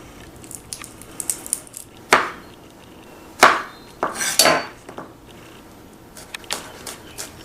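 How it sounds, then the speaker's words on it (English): Two garlic cloves smashed and minced with a kitchen knife on a board, heard as a few sharp isolated knocks and clacks with quiet gaps between them. "We're going to start by mincing 2 cloves of garlic."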